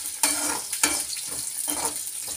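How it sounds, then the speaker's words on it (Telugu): Tempering spices fry in a pan with a continuous close sizzle, broken by several scraping strokes of a spoon stirring through the oil, with no talk. "తాలింపు ఎక్సలెంట్ ఉంది."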